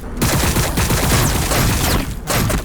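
Rapid gunfire from Warhammer 40k Battlesector, with a dense, continuous stretch of overlapping shots and crackling impacts packed tightly together for the whole stretch, loud and busy.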